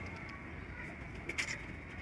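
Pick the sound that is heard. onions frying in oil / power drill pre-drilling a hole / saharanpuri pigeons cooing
saharanpuri pigeons cooing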